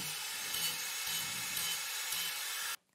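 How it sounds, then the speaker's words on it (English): Machine grinder running steadily, a harsh broadband grinding texture with faint pulsing bursts, loud and close, before cutting off abruptly near the end. "So we're literally going to use a machine grinder."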